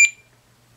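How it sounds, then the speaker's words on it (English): A single short, high electronic beep from a recording module as it starts recording, loud and close, then near silence. "when we hold the red one, we hear a beep and we see the light."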